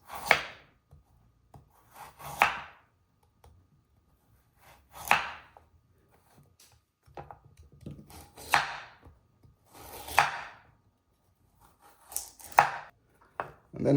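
A knife slices carrots into julienne strips on a cutting board, giving several distinct chopping strokes in short bursts with pauses between them, close and fairly crisp, with no talking.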